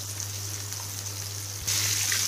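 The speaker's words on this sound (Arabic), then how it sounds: "وانا بقلي السمك كده" Fish fries in oil with a steady, close crackling sizzle and a low hum underneath; the sizzle jumps louder and brighter partway through, with no talk.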